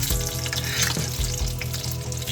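Fish sizzles steadily in a pan of hot oil for sarciadong isda, a close, continuous crackle and hiss with faint scraping or stirring sounds and no talking.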